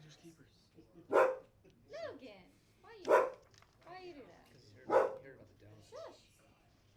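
A dog barks three sharp, loud times, roughly two seconds apart, close by, while people talk quietly in between.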